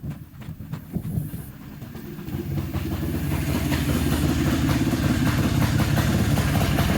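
A small four-wheeler ATV engine, a Barbie Jeep conversion, starts up and settles into a loud, steady running rumble that grows and holds, no talking.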